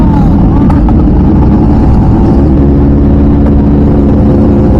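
Green and black motorcycle with a full aftermarket Ambiv exhaust system, a very loud, close, deep rumble that drones continuously with slight rises in revs.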